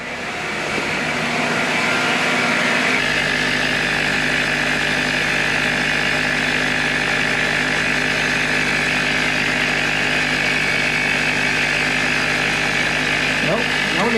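A Mercedes E320 W211 engine runs steadily, giving a continuous close-up mechanical drone. Its low rumble shifts and settles about three seconds in, then holds unchanged to the end.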